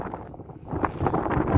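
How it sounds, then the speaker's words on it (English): Outdoor wind buffets the microphone in uneven low rumbling gusts that grow louder toward the end, with no speech. "don't mind the breeze, it's windy."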